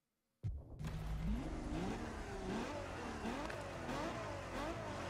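Ferrari V12 in The Crew Motorfest revving hard and climbing through repeated gear changes, a loud, continuous engine roar that starts abruptly after a brief silence and rises and falls in pitch with each shift.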